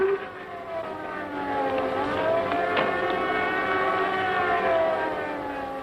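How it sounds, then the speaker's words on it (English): A wailing air raid siren rises and holds a long, drawn-out tone, sounding moderately distant against a low background rumble. "As soon as they hear the sirens"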